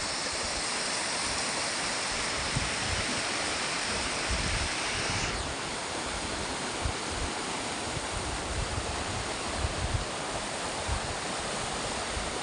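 Rushing floodwater from a flash flood in Gondang, Bojonegoro, roars continuously with a dense, loud, steady wash of turbulent water. No voices are heard.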